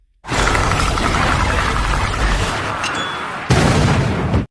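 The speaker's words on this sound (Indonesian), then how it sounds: "Suara ledakan tadi membuat semua zombie berdatangan" A loud, sustained explosive roar with crackling debris fills the space, then a second blast hits near the end, harsh and close.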